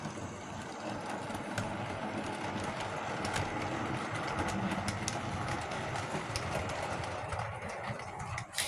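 A Bachmann model V2 locomotive in 00 gauge runs past hauling a train at a modest speed. Its faint, steady running whirr carries a light clattering of wheels over track joints, close and continuous, with no voice.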